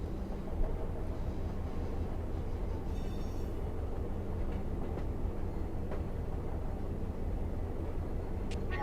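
A CSX E655 coal-empties freight train rumbles steadily in the Run 8 train simulator, with a continuous low diesel drone and rolling rail noise, moderately distant and uninterrupted, with faint squeals.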